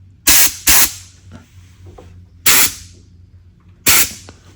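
Compressed air from a compressor line blasts in three short, sharp bursts, with two quick ones close together and one more after a pause. Each loud hiss cuts off abruptly, with quiet shop background between.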